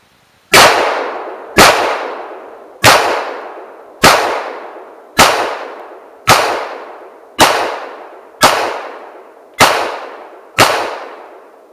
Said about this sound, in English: We'll go ahead, fire 10 more rounds of Federal and see how it does.